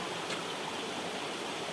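Water pouring and rushing through natural rock pools at Las Pozas del Atrancón in Michoacán, a close, steady broadband wash of flowing water with no pauses.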